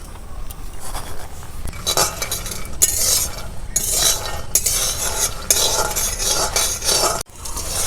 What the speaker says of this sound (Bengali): এই বাদামটাকে আমি এবার ভেজে নেবো